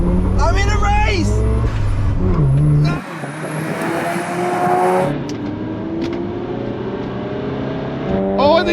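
A Mazda RX-7 and a Toyota Supra drag racing, engines loud and revving through gear changes, heard from inside a car while people talk and shout excitedly over the noise.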